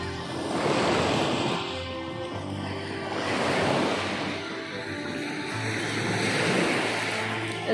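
Sea surf rolling in beside a hot spring outflow at Bulabod Beach, with loud, close waves swelling and receding in slow rhythmic surges, mixed with some wind rumble.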